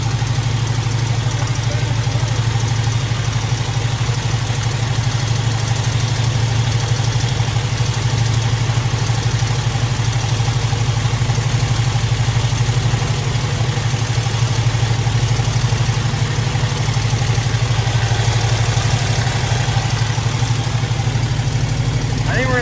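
Chevrolet squarebody pickup truck engine idling smoothly at close range, a steady low rumble with constant hum and no revving throughout.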